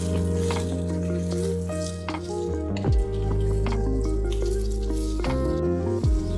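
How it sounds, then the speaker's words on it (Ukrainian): Bell pepper fries in oil in a pan, giving a steady close sizzle with soft stirring and squishing noises and a few low thumps of the spoon or pan. "Підготовлений болгарський перець обсмажуємо на патені з додаванням олії до м'якості."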